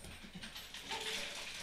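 Dogs bark and whimper faintly in the background of the Doki Doki Literature Club video game, soft yips scattered over a low continuous ambient bed with no talking.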